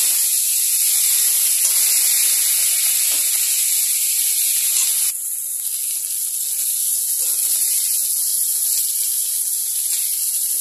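Cauliflower and potatoes fry in oil in a pan for Katla fish curry, a steady close sizzling hiss that runs throughout with faint stirring scrapes and no talk.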